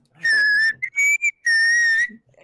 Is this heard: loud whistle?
yes